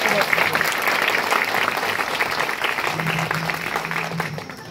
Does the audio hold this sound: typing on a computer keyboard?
no